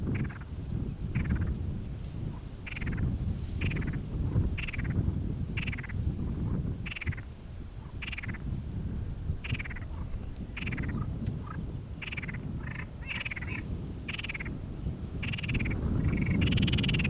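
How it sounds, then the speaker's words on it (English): Frogs croak outdoors near Schiphol Airport in a steady, evenly spaced series of calls, repeating roughly every second over a constant low rumble of background noise. "Frogs are awake now."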